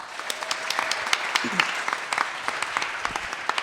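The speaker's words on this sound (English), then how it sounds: "Round of applause for Sarah." Audience at a book launch and discussion applauding a guest of honor, with moderate clapping from a smallish crowd and distinct individual claps standing out.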